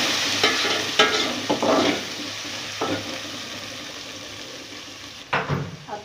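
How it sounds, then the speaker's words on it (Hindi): Garlic-ginger paste fries in a hot pan for beef yakhni pulao, with a steady sizzle broken by scraping and stirring strokes of a spoon against the metal, close up and without speech. "अब मैं इसमें लहसुन अदरक का पेस्ट डालूंगी और इसे भूनूंगी।"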